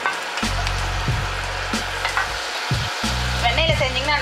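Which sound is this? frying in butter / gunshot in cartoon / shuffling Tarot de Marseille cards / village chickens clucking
frying in butter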